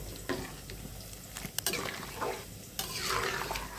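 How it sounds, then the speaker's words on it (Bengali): Drumsticks, chillies and spices frying in a pot on high heat, stirred with a spoon: steady sizzle with scraping stir strokes and a few sharp metallic clinks against the pot, close and fairly quiet. "এখন একটু নেড়ে ছেড়ে দিয়েছি।"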